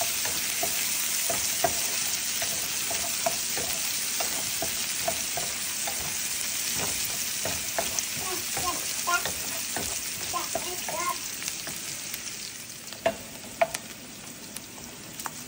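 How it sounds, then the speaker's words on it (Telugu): Onions frying in a pan with a steady, close hiss of sizzling oil, occasional soft pops and light stirring scrapes running throughout, nobody speaking. "ఆనియన్స్ రెడ్ ఫ్రై అయిన తర్వాత"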